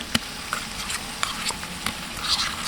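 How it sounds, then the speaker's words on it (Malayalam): Onions, slit green chillies, and garlic and ginger paste sauté for mutton biryani with a crackling sizzle, punctuated by several sharp scrapes and knocks of the spoon stirring the pan. "ഇനി നമുക്ക് ഈ ഇഞ്ചിയുടെയും വെളുത്തുള്ളി പേസ്റ്റിൻ്റെയൊക്കെ പച്ചമണം മാറുന്ന വരെ ഒന്ന് വഴറ്റിയെടുക്കുക."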